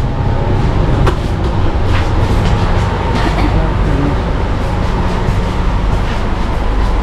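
Steady rumble inside a moving Garib Rath passenger train, with constant low rolling noise, faint clicks and rattles, and a person speaking over it.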